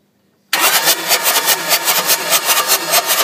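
Ford 6.0 Powerstroke diesel engine, 2006, with a hydrolock condition, cranks over loudly right after a moment of silence, a steady rhythmic starter churn with no talking.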